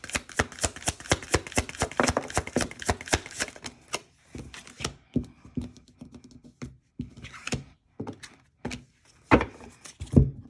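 Tarot cards are shuffled by hand in a close, quiet room, giving dense rapid riffling for about four seconds, then scattered taps and slaps as the deck is handled in short bursts.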